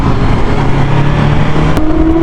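Loud, continuous sport motorcycle engine roar at high speed with steady droning pitch and wind rush, a slight gear shift near the end.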